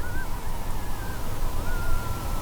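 Faint, wavering high calls of a jackal howling far away in Kruger National Park drift in and out over a steady wash of background noise.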